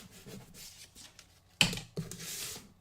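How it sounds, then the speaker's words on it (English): A blade or scoring tool drawn firmly across paper to score a fold line, giving soft rubbing scrapes followed by two sharper, louder strokes, close and faint. "I'm going to score a little harder this time to get a nice clean score line"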